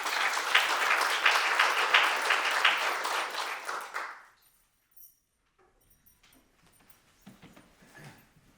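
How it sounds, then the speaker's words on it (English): An audience at a lecture event gives a speaker a round of applause, with dense, loud clapping for about four seconds before it fades out, followed by near silence with faint scattered noises. "Please give him a round of applause."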